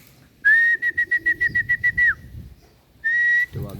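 Someone whistles to call homing pigeons back to the loft for training: a long sustained whistle breaking into a rapid string of short repeated pulses, then a second long note after a pause, loud and close with faint outdoor background.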